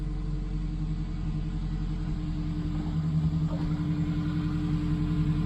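A Daihatsu Sirion's engine idles after starting, a steady low mechanical hum with a faint rhythmic pulse, running alone at moderate level.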